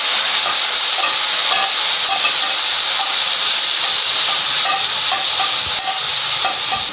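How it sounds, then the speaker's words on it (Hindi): Chopped onions sizzle loudly in hot oil in a pan for an egg khagina, a steady, dense frying hiss with occasional stirring scrapes and no talking. "अब हम इसमें प्याज डालेंगे।"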